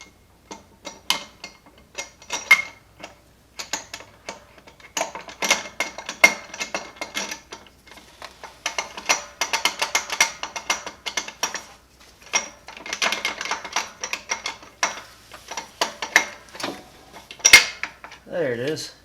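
Timing system parts are bolted onto a 2005 Ford F150 engine, with irregular ratcheting clicks, metallic rattles and tool clatter in bursts close by, and a final sharp knock near the end.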